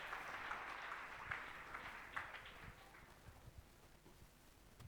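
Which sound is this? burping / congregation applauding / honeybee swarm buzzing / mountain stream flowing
congregation applauding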